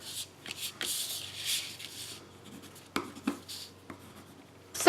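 Adhesive being burnished onto a gift box, giving close, soft scratchy rubbing strokes with a few sharper taps, fairly quiet and with no talk.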